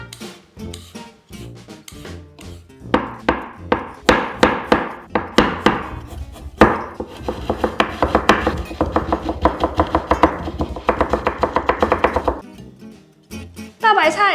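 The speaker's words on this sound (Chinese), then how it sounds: "再来就是将红萝卜去皮切丝" Knife chops peeled carrot into thin strips on a board, rapid close rhythmic taps in bursts with short pauses, loud and crisp.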